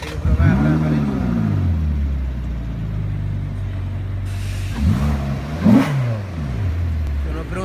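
A Ferrari California engine revs near the Vallelunga circuit outside Rome. The pitch climbs and falls in two distinct rev sweeps over a steady idle rumble.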